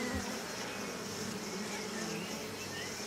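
Bees hum around their hives in a mountain forest in Karçhal, Artvin Şavşat, making a steady, diffuse buzzing swarm drone that carries on without a break at moderate distance.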